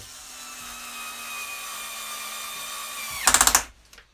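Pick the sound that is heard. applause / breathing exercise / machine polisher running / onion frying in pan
machine polisher running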